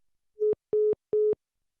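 A phone line gives a busy signal after a call is cut off: three identical short electronic beeps in an even rhythm, clean and isolated with silence between.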